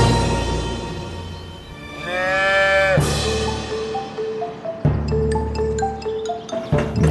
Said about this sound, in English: welcomed a new addition to their herd of cows